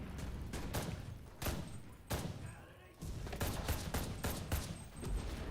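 Battle rifle fire in the World War II shooter Enlisted, Soviet troops fighting in Berlin, with a run of sharp, fairly close shots in an irregular rhythm among other gunfire, and someone talking over part of it.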